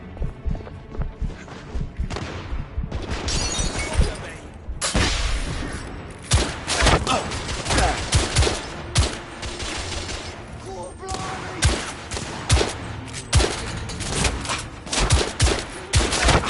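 Dense gunfire from the video game The Order: 1886, with repeated sharp shots and bursts across the whole stretch alongside heavy thuds, mixed with shouted voices in a loud combat scene.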